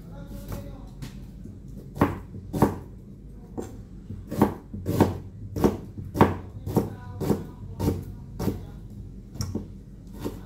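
A knife chops ginger on a cutting board in a rhythmic series of a dozen or so sharp knocks, evenly spaced and close by, with faint background noise between the strokes.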